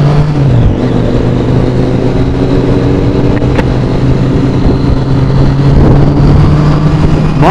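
A Triumph Street Triple motorcycle cruises along the Yamuna Expressway, its engine a loud, steady drone with rushing wind noise and a slight pitch shift early on as the revs change.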